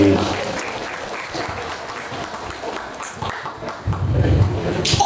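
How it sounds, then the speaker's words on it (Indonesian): A crowd at a village head election campaign rally in Karangmekar applauds, a sustained spread of clapping from many people with a voice speaking over a PA toward the end. "Hatur nuhun kana kasihapan tepuk tangan sakali deui."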